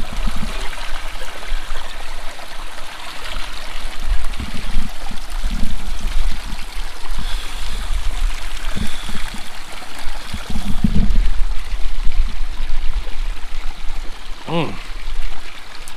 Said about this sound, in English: a spring water that comes out of the side of the mountain and filters down through this wet meadow